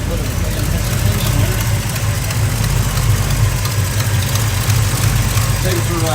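A car engine with a freshly replaced Holley carburetor idles loudly and steadily nearby, its rough running hinting at a slight hesitation, with a voice audible over it.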